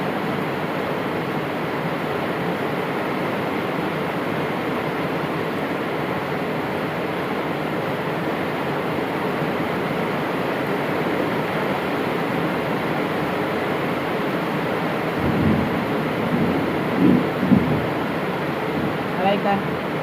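Heavy rain from a storm pours down outside, a dense steady roar filling the background from start to finish, with a few louder thumps and splashes near the end.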